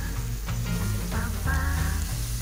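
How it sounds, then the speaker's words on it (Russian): Beef heart pieces fry in a pan for goulash, giving a steady close sizzle with background kitchen sounds and faint scraping, with no talking. "И продолжаем жарить."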